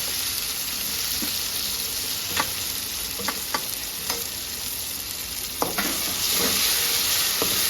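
Ground raw mango chutney goes into a hot pan of fried tempering, giving a steady loud sizzle broken by sharp clinks and scrapes of stirring, with no talking.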